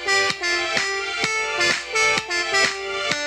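A layered snare beat programmed in FL Studio Mobile, with crisp snappy hits over a steady electronic pattern and a repeating melodic line, looping evenly at close range.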